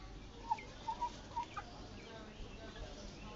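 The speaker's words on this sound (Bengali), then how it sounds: "আমার এই যে 3টা মুরগি" Three backyard hens let out a few soft, brief clucks and gobble-like calls in a small home garden farm, faint over steady background hiss.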